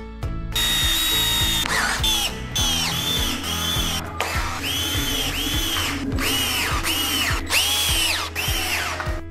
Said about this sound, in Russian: Крепление петель производится черными саморезами из комплекта фурнитуры.